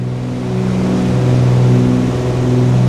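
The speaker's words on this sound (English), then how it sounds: "These engines are loud, aren't they?" Twin engines of a Cessna 414AW Chancellor in a flight simulator game cruise in flight, a loud, constant low droning hum with a steady tonal throb, heard alone without talking.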